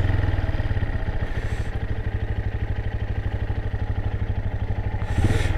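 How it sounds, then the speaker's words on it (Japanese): A Honda SL230 off-road motorcycle engine runs at a steady, loud idle with an even mechanical clatter, close by and with no talk over it. "エンジンスタート。"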